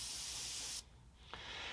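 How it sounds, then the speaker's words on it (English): Spray can of flat primer paint hissing onto an HO scale model warehouse, a steady loud spray burst that cuts off, pauses briefly, then starts again. "I'm not going to spray directly into these grooves here, but I'm going to let the paint just fly over it or overspray over it"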